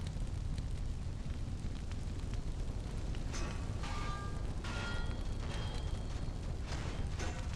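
Missiles strike ships in the space combat game Nebulous, a steady roaring rumble broken by several sharper blasts and crackling bursts in quick succession; no one talks.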